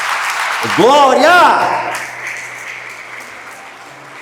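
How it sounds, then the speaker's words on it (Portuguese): A church congregation applauds the Lord with a brief burst of clapping, while a voice shouts in praise over it before the clapping fades into a quieter room. "Aplauda o Senhor"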